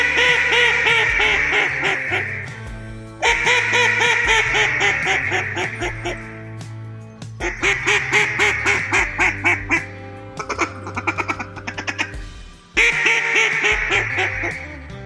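A live hen mallard quacking in flooded Arkansas timber, followed by an Edison duck call from Beckman Game Calls imitating her: loud, close runs of nasal quacks in descending sequences with short gaps between series.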